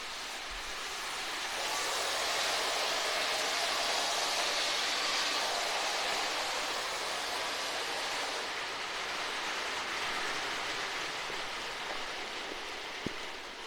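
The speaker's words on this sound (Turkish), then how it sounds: "Güneş çıktı ama yağmur yine yağıyor." Rain falls steadily outside a wooden village house, a dense, even hiss of drops that stays constant and moderately loud throughout, with a single faint click near the end.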